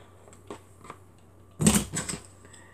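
Scissors snip through craft material while a red and yellow flower is being made: a few faint ticks, then a louder close cluster of two or three crisp cuts near the end.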